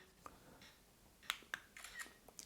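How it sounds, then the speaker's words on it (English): Phone camera shutter clicks triggered by the buttons of a Cocoda CY108 3-in-1 selfie stick (Yunteng VCT-1388), heard as two or three sharp, fairly close clicks among faint handling rustle, with no talk. "see if the phone either mutes the sound of the shutter button or we can hear it"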